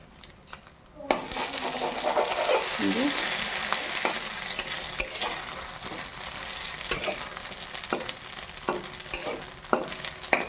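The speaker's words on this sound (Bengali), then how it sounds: "এইভাবে আমি ওই একইভাবে ডিমগুলো ভেজে নেব" Eggs frying in a pan, a continuous loud sizzle with scattered clicks and clinks of a utensil against the pan throughout.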